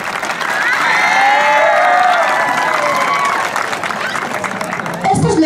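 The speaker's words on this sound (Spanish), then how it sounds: "les voy a pedir un fuerte voto de aplausos para el alumno José Eduardo Santa Cruz Miranda" A school crowd at an anniversary ceremony of the Manco Inka educational institution in Vilcabamba applauds and cheers loudly for a student, with shouting children and whoops forming a sustained, dense roar.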